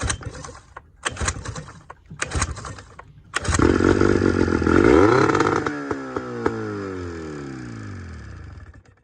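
A small outboard boat motor is pull-started in a few sharp rope tugs, then catches and runs loudly and steadily nearby, its pitch settling and sliding down as it idles back.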